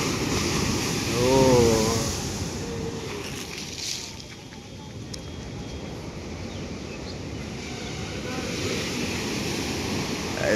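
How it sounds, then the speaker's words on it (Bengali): Rough, high surf breaks at Digha beach on a new-moon day: a loud, continuous roar of crashing waves with heavy wind buffeting the microphone and brief, faint voices in the background. "আর এই ঢেউগুলো কেমন ফুলে উঠছে দেখো।"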